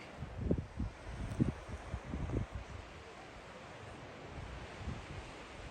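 Breezy wind on the Cape Split clifftop in Nova Scotia buffets the microphone in strong gusts for the first half, then settles into a steadier, softer rush.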